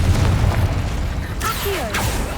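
A Confringo spell explodes in the Hogwarts Legacy video game, a loud booming burst with crackling tails over steady game ambience, followed by a second burst about half a second later.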